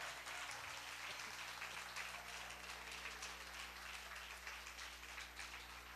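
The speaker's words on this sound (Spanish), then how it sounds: "Ahora sí puede aplaudir." A church congregation applauds together, a dense, steady wash of clapping that fills the hall at an even level from start to finish, with no voices over it.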